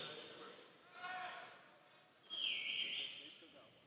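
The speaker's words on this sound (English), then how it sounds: "I never did learn to whistle like that." A person whistles a short, bright tune during a church convention gathering, two distinct whistled phrases rising clearly over a murmuring hall, the second louder and sustained.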